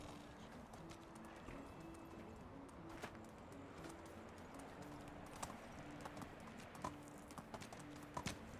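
Steady clip-clop of a ridden horse's hooves in the medieval survival game Medieval Dynasty, a regular trotting rhythm over a constant ambient bed, with a few faint clicks and no voices.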